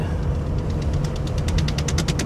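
Rapid rhythmic tapping and fluttering of a seatbelt flapping in the airflow grows over a low road rumble inside a moving Holden VL Commodore.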